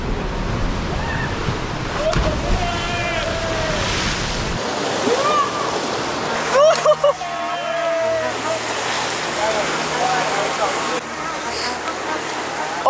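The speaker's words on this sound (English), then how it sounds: "The waves are too rough." Rough winter sea waves surge and crash against coastal rocks in loud, roaring bursts mixed with wind buffeting the microphone, while people shout and talk nearby.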